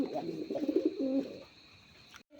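A male desi pigeon coos excitedly at a female, a few close, throaty bursts of cooing over a faint background hum, then quiet.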